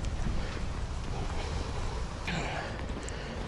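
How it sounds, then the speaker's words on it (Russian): Strong wind buffets an outdoor microphone in a steady broadband roar with low rumbling gusts, continuous and loud throughout with no talk. "Совсем не балует. Ветрище."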